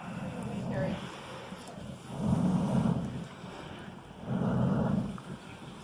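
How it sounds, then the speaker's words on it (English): Air is blown through a tube into a blacksmith's forge in three long, breathy, rumbling gusts, each swelling and fading, with quiet pauses between them. "you're giving it air the old-fashioned way, blowing through the tube"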